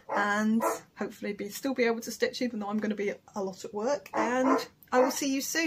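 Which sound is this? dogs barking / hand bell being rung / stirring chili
dogs barking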